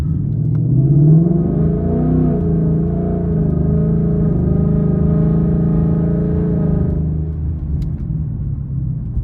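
A Ford Mustang GT's engine rumbles up as it accelerates, holds a steady drone, then eases off and quiets as the car brakes and slows in traffic.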